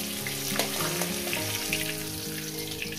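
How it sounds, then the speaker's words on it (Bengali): Fish heads sizzle and crackle steadily in hot oil, a close, continuous frying hiss broken by small pops, with no voices. "এবার বাদবাকিদের মাছের মাথা দিয়ে ভেজে নেব"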